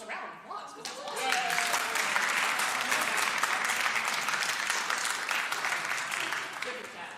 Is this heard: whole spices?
no